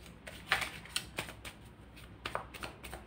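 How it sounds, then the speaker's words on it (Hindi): Tarot cards riffle and snap in a series of short crisp bursts, close and fairly quiet, with bright papery flutters repeating over a few seconds and no talk. "अभी ये चीज़ आप देख रहे हो शफल होते हुए"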